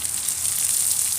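Vadagam crackling and frying in hot oil, a dense continuous hiss with fine spluttering, close and loud, lasting about a second.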